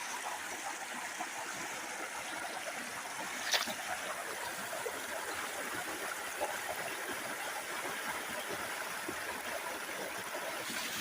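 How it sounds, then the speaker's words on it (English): Water and gravel stream steadily from an automatic bucket feeder into a gold sluice, making a constant close rushing wash with one brief knock and no pauses. "I load it in the bucket there, and then the bucket just automatically slowly feeds the sluice"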